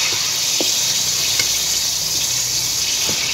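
Chicken frying in a pan with ginger garlic paste, a steady loud sizzle close up, with faint stirring scrapes and no talk.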